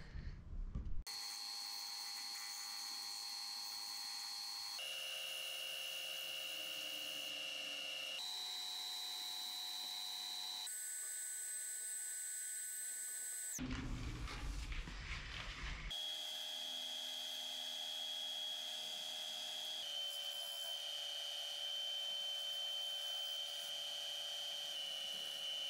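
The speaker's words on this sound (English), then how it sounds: "Carbide round cutter, 800 RPM." A rotary tool spins a carbide round cutter at 800 RPM in a series of steady, high-pitched whining runs that shift in pitch from one pass to the next, separated by short pauses, quiet and close, with no talking.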